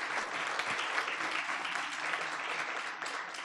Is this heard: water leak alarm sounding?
no